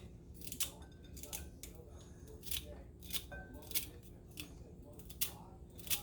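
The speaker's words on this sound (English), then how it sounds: "we're just going to cut up about 4 stalks of it in here and call that good" Celery stalks are cut up for a casserole with crisp, repeated cuts, about a dozen in a loose rhythm. The cuts sound close but quiet, with no talking.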